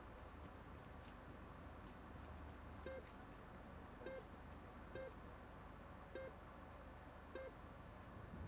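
A buried canister in Call of Duty Cold War zombies gives a short electronic beep five times at a steady pace about a second apart, faint and distant beneath a constant low rumble of background game noise.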